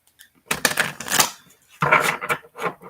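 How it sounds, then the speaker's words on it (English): Two quick bursts of rapid crisp clicking and riffling as a deck of tarot cards is shuffled close up, separated by a short pause. "we're going to shuffle the cards."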